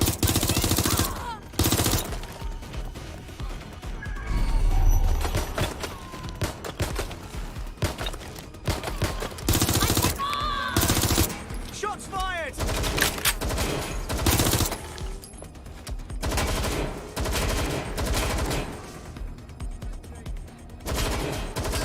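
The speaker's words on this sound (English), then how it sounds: "Taking fire! Suspect shooting!" Gunfire from the video game Watch Dogs Legion, with loud, dense bursts of automatic fire and single shots that repeat for most of the stretch, up close and alone without talk.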